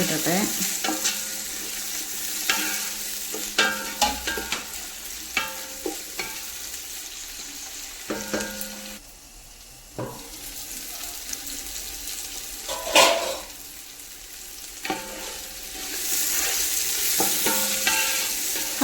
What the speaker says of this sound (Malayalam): ഉള്ളി വാടിയപ്പോൾ കേട്ടോ കുറച്ച് തക്കാളിയൊക്കെ ഇട്ട് കൊടുത്തു ഇനി അതുകൂടി ഒന്നാണ് വാടി